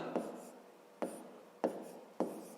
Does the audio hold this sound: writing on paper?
yes